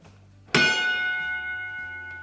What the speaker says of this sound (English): A bell rings. That's an engine room gong.